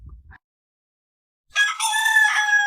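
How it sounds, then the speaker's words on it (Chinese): A rooster crows loudly and close by, one long drawn-out call after a short silence. "被大公鸡牌闹钟叫醒的时候"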